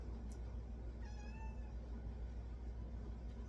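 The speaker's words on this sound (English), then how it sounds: "The cat wants to go outside." A cat gives a single short meow at a fair distance, faint over a steady low indoor hum and rumble, with no talking.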